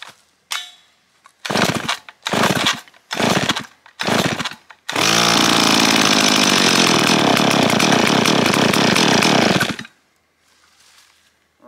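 STIHL 038 chainsaw, choke on, pulled over with about five sharp rope tugs before catching and revving loudly up close for around five seconds, then cutting out.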